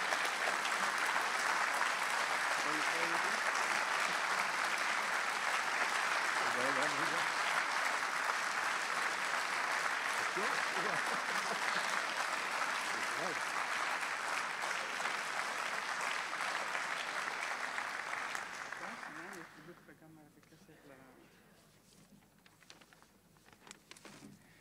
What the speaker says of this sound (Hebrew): ומגיעות לו מחיאות כפיים